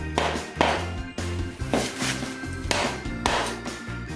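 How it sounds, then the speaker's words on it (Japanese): A plastic hammer knocks on the crank of a Trek road bike during disassembly, about eight firm, sharp taps in an uneven rhythm, close and loud. "次のアイテム、プラスチックハンマー。"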